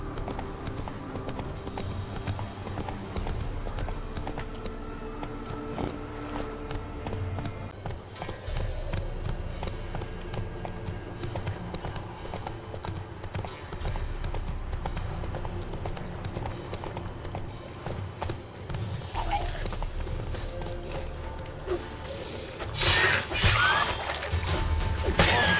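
Roach the horse from The Witcher 3 galloping, hooves clip-clopping in a steady rhythm under a dense game soundscape of ambient music and effects, with a few louder impacts near the end.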